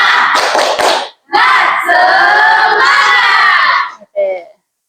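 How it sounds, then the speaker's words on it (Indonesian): Schoolchildren in a classroom do a rhythmic clapping cheer, a burst of quick claps followed by loud, high group shouting in unison, then a short final shout. "Tepuk semangat dulu."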